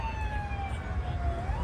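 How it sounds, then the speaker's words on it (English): A police car siren wails with a steady, loud tone as a special caravan passes through a crowded outdoor scene at the Coca-Cola 600 race, over a constant low rumble of traffic and crowd. "Police car"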